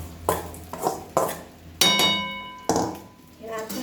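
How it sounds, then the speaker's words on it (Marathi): A spoon stirs sabudana khichdi with crushed peanuts, sugar and salt in a pan, giving a handful of separate clinks and scraping thunks against the metal, close and fairly clear. "हलवून घ्यायचं हळू."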